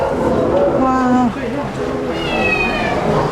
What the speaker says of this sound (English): So now we go see the cat kennel out here.